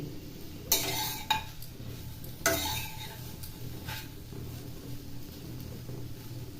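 Capsicum and egg are stirred in a pan, giving a few sharp metallic clinks of a utensil against the pan early on, then softer scraping over a faint background sizzle.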